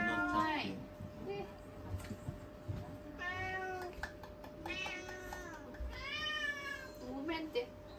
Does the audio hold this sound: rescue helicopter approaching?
no